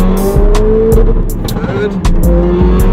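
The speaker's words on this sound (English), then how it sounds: "So this is like a 2nd gear now. In 2nd, just giving it a quick pull." An Audi S1 Quattro with a bigger turbo, stage 3 tune and about 400 bhp pulls hard in second gear, its engine droning loud and close with steady rising tones and the sharp crackle of turbo and exhaust.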